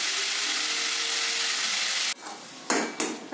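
Star fruit chutney sweetened with batasha is stirred in a pan, giving a steady hiss and sizzle that is followed near the end by a few scraping knocks of the spoon against the pan.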